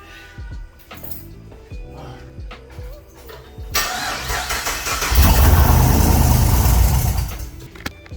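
A Pontiac G8 GT with its headers unbolted cranks over with a rapid, rhythmic starter chug, then catches and roars loudly to life, the uncovered exhaust blaring before settling back slightly.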